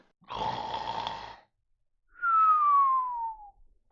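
Someone imitates loud snoring in a tabletop adventure game: a rough, rasping breath for about a second, then after a pause a long, falling whistled note, both close and fairly loud with no talk.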